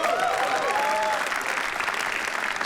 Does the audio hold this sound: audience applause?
yes